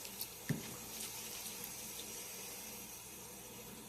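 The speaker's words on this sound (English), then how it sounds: "let your water keep filling up a little bit" A washing machine tub steadily filling with water while clothes are washed on the road, a continuous even rush of running water with one brief knock near the start, and no voices.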